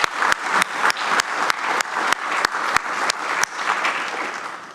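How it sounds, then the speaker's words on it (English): Loud, dense applause from a crowd, steady throughout with a few sharp claps standing out. "let's give all of our students another round of applause"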